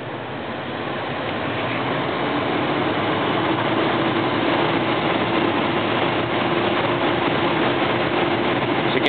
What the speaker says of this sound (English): So you can hear the fan blowing.